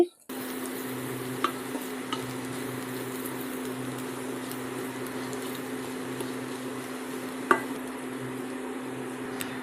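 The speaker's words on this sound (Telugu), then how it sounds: "వెల్లుల్లి కారం ముద్దల్ని ఇలా గరిటెతో మ్యాష్ చేసుకుంటూ కలుపుకోండి" A ladle mashes and mixes garlic and chili paste in a pan over a low, steady sizzle, with a couple of faint clinks of metal on the pan. No voices can be heard.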